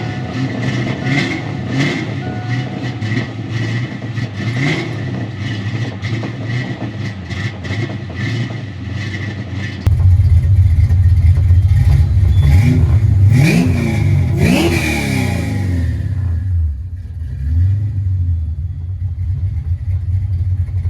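A 1988 Ford Mustang LX with a 306 engine idles roughly and then revs hard in loud, uneven bursts, popping back through the intake, close by and with no voices.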